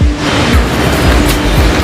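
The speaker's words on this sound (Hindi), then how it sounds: "उसके ऊपर भी झरना अद्भुत है, हिमालय से ये झरना आ रहा है, बर्फ़ पिघल रहे हैं" A Himalayan waterfall fed by melting snow near Yamunotri roars loudly and continuously as a dense rush of falling water, close by, with no talking.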